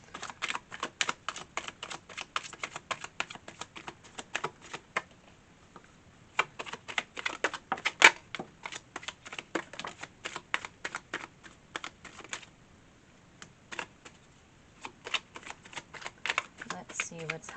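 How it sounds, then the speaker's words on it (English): Tarot cards riffled and shuffled in quick, crisp bursts, repeated many times with short pauses between, close and fairly loud. "I'm going to do one more shuffle."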